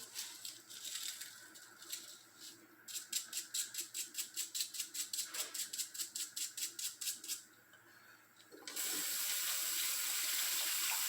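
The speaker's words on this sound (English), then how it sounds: "See some little grease flew out of there, so I'll rinse it again." Bicycle parts rinsed under a running tap: a faint background hiss, then a long stretch of rapid rhythmic spattering bursts, and finally a steady louder flow of water, with no talk.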